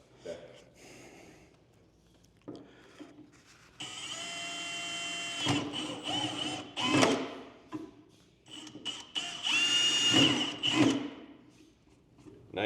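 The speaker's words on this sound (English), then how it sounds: "you can go ahead and start that drilling process" A power drill bores holes for 3/16 rivets while a skid plate is being installed, heard as two sustained whining bursts with voices talking in the pauses around them.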